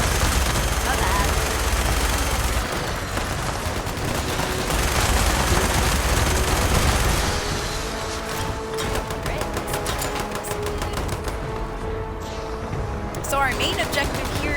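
Gunfire from friendly players in Fallout 76 during an event fight on Xbox Series X, dense bursts and overlapping shots mixed with game noise and speech.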